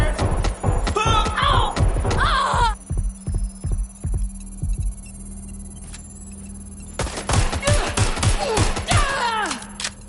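Gunfire in the video game Watch Dogs: Legion comes as bursts of sharp, rapid shots over a steady low hum, with a quieter stretch in the middle before the shooting picks up again.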